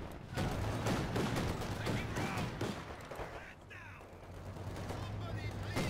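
Sniper fire cracks amid a busy Company of Heroes 2 battle, with steady volleys of gunshots and explosions layered densely throughout, moderately loud, while a commentator talks over it.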